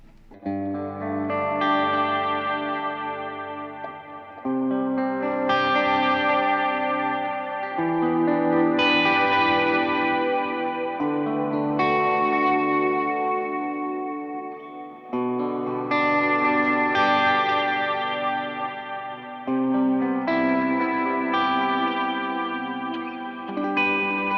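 An electric guitar on its bridge pickup plays sustained chords with a bright, twangy tone, washed in chorus and echo, strummed at a steady, unhurried pace.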